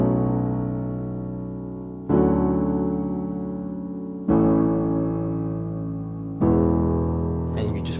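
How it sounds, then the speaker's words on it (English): Piano chords from the chorus of a song, played alone with no talking: four sustained chords struck roughly every two seconds, each ringing and slowly decaying, close and clear. "and then we go into the chorus, which is this."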